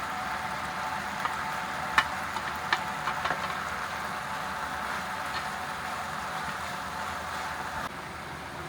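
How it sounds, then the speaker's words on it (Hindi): Carrots, capsicum and cabbage fry in a pan, giving a steady, moderate sizzle with a few light clinks and stirring scrapes, no voices. "सब्जियों को हमने 1 से 2 मिनट तक अच्छी तरह भून लिया है"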